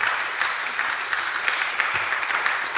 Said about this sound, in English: Let's give him a big clap.